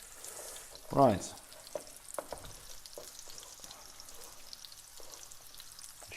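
Chillies frying in a pan, a soft crackling sizzle with a brief louder burst as they hit the hot oil, continuing faintly alongside a short spoken word and light kitchen clinks.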